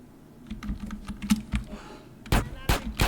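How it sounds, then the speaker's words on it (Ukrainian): Gunfire in the video game GTA San Andreas: a burst of sharp, loud shots near the end, preceded by rapid clicking taps in the foreground. "О, стріляють."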